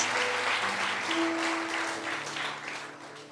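Church congregation applauding in praise during a worship service, a steady dense wash of clapping sustained throughout with tonal music or voices faintly underneath.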